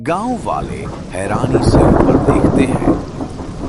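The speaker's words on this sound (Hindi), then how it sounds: "बारिश की बूंदें जैसे ही नए खोदे गए कुएं में गिरने लगी" Rain and rumbling thunder as a storm effect in a narrated Hindi story, loud and continuous beneath a narrator's voice, with a rolling swell in the middle.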